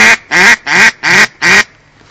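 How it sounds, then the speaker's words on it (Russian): Five loud, nasal duck quacks blown on a mouth-blown duck call lure in a steady rhythm, close and clear, followed by a brief quiet pause. "Работаем грудью, выдыхаем спокойно, без нервоза, звук «ут-ут-ут-ут»."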